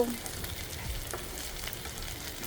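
Mangalore fish sizzles in a frying pan, a soft, steady crackle with small pops, fairly quiet and close.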